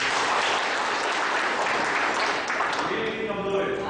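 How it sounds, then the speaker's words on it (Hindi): Women's side of a seminar audience claps in a steady wash of many hands, fairly loud and continuous, thinning slightly toward the end as a voice begins speaking over it. "और फीमेल विंग के तरफ से भी ताली।"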